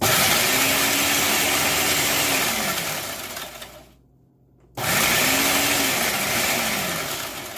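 A loud Ninja blender whirs in two pulsing bursts, cutting out briefly to near silence between them before roaring back up.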